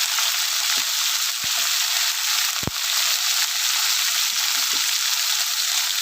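Mixed vegetables with aubergine, salt and turmeric frying in a pan, a loud continuous sizzle with a few sharp clatters of stirring.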